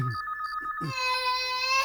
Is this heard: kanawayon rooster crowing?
no